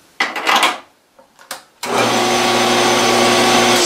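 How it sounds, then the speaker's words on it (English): Metal lathe fitted with a spindle bore attachment, a few clicks and clunks as it is started, then a steady motor hum and whir that spins up abruptly and runs on loud and even. "We can probably turn the lathe on and have a look at that."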